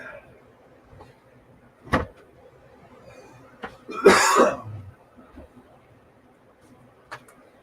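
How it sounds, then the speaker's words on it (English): A person coughs once loudly at close range, a short harsh burst standing out against a quiet room, with a few faint knocks and a smaller earlier cough-like sound. "So he heard you cough."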